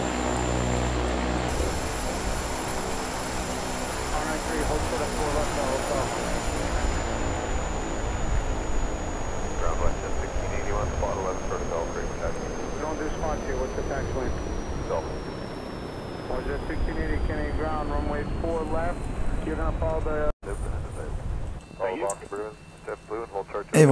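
Left engine of an OV-10 Bronco spooling down in Microsoft Flight Simulator, a loud steady turboprop drone with whining tones slowly falling in pitch, someone talking over it throughout, then clicks and a quieter hum near the end.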